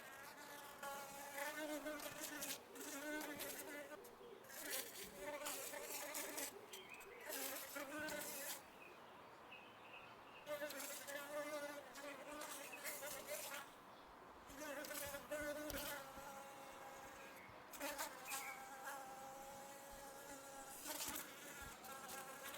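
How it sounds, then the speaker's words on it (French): Dense, steady insect buzzing of many honeybees of a newly hived swarm close by, continuous throughout with slight swells in intensity and no talking. "les abeilles, elles ont à peine étiré cette cire."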